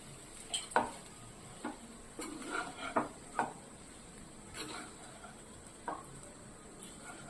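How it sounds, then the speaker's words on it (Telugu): A spoon stirs puha curry in a pan, with soft, scattered scrapes and light clinks spaced irregularly over a quiet background, faint and close. "ఇలాగే ఇప్పుడు వేసుకొని ఇదంతా స్లోగా కలిపేసుకోండి."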